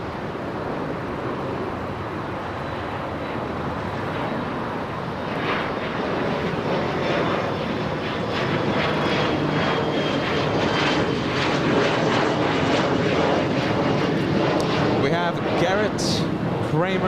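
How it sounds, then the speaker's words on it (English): An Etihad Airbus A380 arrives at Los Angeles International Airport, its broad, steady engine roar holding loud and close for the whole stretch, with a voice talking over the noise. "We're gonna cover the Etihad A380 arrival."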